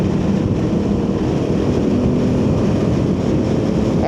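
Royal Enfield Himalayan 450 motorcycle with aftermarket mods, engine pulling hard under acceleration, a steady loud roar mixed with wind rush throughout.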